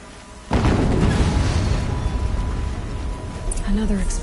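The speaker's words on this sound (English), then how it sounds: "Another explosion." A sudden heavy boom erupts in the Horizon Zero Dawn video game, followed by a sustained loud rumbling roar that fills the rest of the moment.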